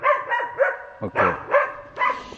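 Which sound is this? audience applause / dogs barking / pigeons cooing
dogs barking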